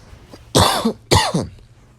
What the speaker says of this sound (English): I'm a smoker, so I do have a smoker's cough.